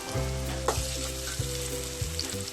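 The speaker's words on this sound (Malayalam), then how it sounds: "ഉള്ളി നല്ലോണം ഒന്ന് മൂപ്പിച്ചെടുക്കണം വഴറ്റിയെടുക്കണം" Onions frying and sautéing in a pan, a steady sizzle with a few soft stirring knocks of a utensil.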